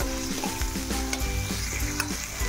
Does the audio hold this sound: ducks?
no